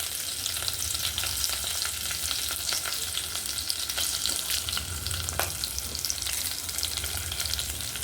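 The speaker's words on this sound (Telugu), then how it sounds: "ఆయిల్ హీట్ ఎక్కాక ఇంత పచ్చిమిర్చి, ఆవాలు, జీలకర్ర," Green chilli, mustard seeds, cumin and urad dal sizzle in hot oil with a dense, steady crackle dotted with small pops, heard close up and without talk.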